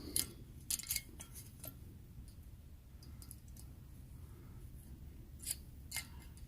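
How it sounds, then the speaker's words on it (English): A small screwdriver pries a part out of a Canadian 505 stove, sending several sharp metallic clicks and taps near at hand over quiet background, with no talking. "I'm just going to take this small screwdriver."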